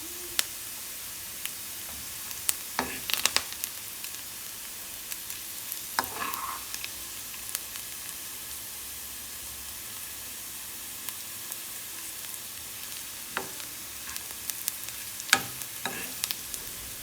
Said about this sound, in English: let it all fry for another 2 to 3 minutes, because the onions have to really brown